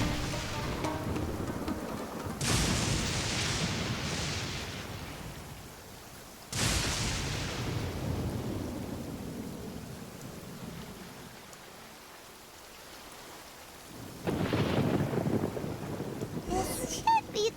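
Lightning strikes and thunder in the video game Genshin Impact: sharp cracks followed by rolling rumbles over steady rain, three strikes spread out, loud and close.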